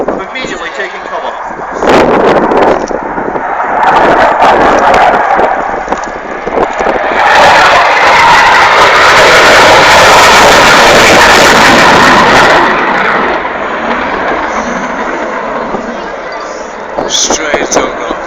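Tornado GR4 jets passing over a target area in formation at an air show, a broad rising and falling roar with wind buffeting, under a commentator's voice over loudspeakers.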